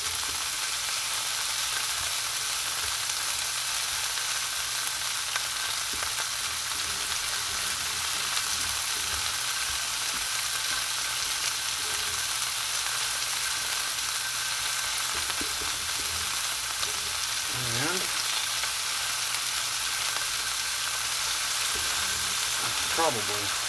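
Quail searing in a hot pan give off a loud, steady frying sizzle that runs unbroken throughout, with a few brief scraping touches near the end as the pieces are turned.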